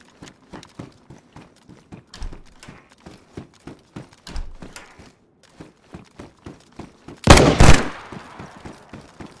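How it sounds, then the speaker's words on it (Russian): Rapid shots ring out in DayZ on an island, a steady run of sharp reports with one louder, closer blast burst near the end. "откуда стреляют?"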